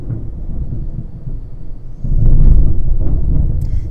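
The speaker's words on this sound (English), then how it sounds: "Do you hear that thunder?" Deep rumbling thunder heard from inside an insulated garage, a low steady roll that swells suddenly louder halfway through and keeps rumbling, with no voices.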